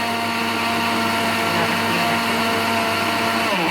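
A blender roars loudly and continuously as it grinds lentils, its motor pitch holding steady, then shifting slightly near the end.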